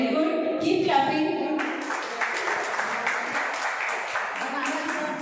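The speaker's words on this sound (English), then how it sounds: "Keep clapping." An audience at a children's school seminar claps together in a dense, sustained round of applause, with a voice speaking over it at the start before the clapping fills in loudly and evenly.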